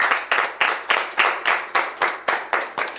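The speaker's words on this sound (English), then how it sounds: "A round of applause for AUA." Game show audience at the Accountancy Challenge Nigeria TV quiz gives a round of applause, with about ten loud, evenly spaced clapping surges in steady rhythm, close and without talk.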